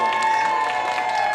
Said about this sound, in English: I'm going to give them another round of applause.